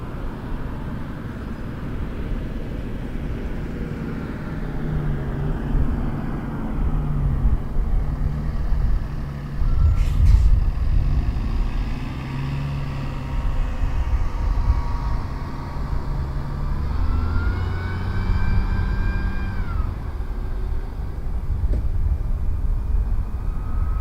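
A WestJet airliner rolls for takeoff on runway 05 at Toronto Pearson, a steady broad engine roar with a rising whine, heard from a distance throughout with no talk.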